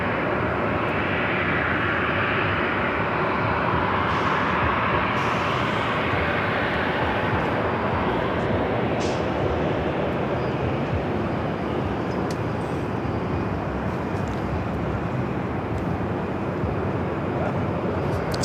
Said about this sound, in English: It's Delta 737 lining up, 24 left.